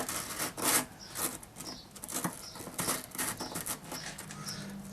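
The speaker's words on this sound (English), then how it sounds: "So I'm just sanding in this area right here, pushing this into here." Repeated rasping strokes of sandpaper rubbing wood by hand inside a binding channel groove, quiet and close, in an uneven back-and-forth rhythm.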